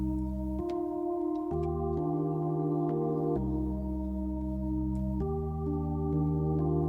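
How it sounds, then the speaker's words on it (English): Keys Legend synth preset from the Synthopia Analog Lab bank plays a simple chord progression, warm sustained keyboard chords changing every second or so, clean and alone. "The sound is called Keys Legend from the Synthopia analog lab bank"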